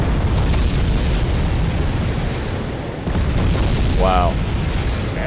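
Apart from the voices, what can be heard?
air force bombs exploding in video game Wargame: Red Dragon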